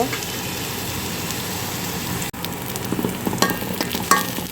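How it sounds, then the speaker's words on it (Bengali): Ginger garlic paste and spices fry in mustard oil, a continuous close crackling sizzle with faint stirring taps and occasional sharper pops. "আদা রসুনের পেস্ট এর ভিতরে দিয়ে আমি মশলাটা ভালোভাবে ভেজে নিচ্ছি"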